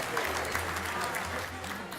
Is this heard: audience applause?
yes